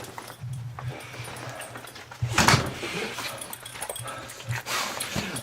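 A dog kept indoors whines and whimpers to be let outside, with thin, pleading cries and a louder yelp midway, heard close over a low steady background hum.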